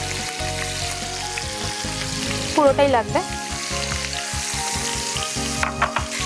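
Onion fries in a hot pan with a loud, steady sizzle, punctuated by brief stirring scrapes, while a person talks briefly over it.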